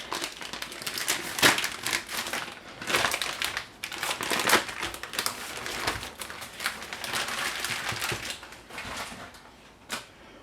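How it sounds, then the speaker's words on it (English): Kitchen shears snip and crinkle through a plastic package of salted mackerel in a series of close crackling cuts and rustles lasting several seconds. "I'm just going to use a kitchen shears to cut this open."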